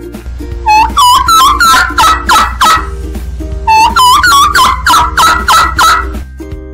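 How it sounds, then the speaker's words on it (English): A turkey gobbles loudly and close, two rapid warbling bursts of rattling calls separated by a short gap, over a low droning background. "Turkey."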